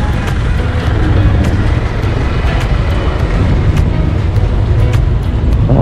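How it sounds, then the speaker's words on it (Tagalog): Road traffic in a muddy barangay village street: loud, continuous close engine rumble and road noise from passing vehicles, with a few brief sharp higher clicks, no voices standing out. "traffic na naman dito sa barangay namin as usual."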